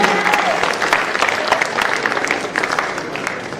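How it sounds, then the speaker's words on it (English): Steady applause from an audience, a dense wash of many hands clapping continuously for a few seconds at fairly constant loudness. "A clap for Ian."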